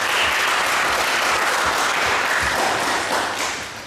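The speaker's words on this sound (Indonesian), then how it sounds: "Oke, tepuk tangan dulu ya" An audience at a Mahayana Buddhist ordination gathering in Indonesia claps in a dense, continuous wash of applause that stays loud throughout and tapers slightly at the close.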